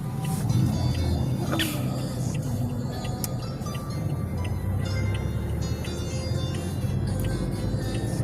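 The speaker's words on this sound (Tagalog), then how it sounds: "Yan talaga dito, traffic kasi holiday." Holiday road traffic heard from inside a car during a driving lesson in an automatic car, a steady low rumble of engines and tires with a few faint clicks and higher tones, and no talk.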